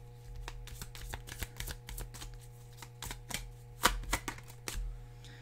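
Tarot cards shuffled during a card reading, a close run of quick papery riffles and soft flicks in an uneven rhythm, louder bursts near the end, with no voices.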